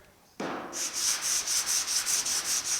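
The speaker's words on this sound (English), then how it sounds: "I'll just grab the long air sander and just kind of go over it with some 120 or 180" A long straight-line air sander with 120 or 180 grit block-sands the hood of a 1950 Chevy truck, starting with an air hiss and then settling into a steady, close, rhythmic pulsing scrub that runs on alone.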